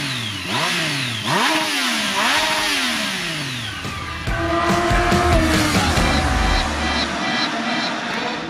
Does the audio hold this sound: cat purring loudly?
no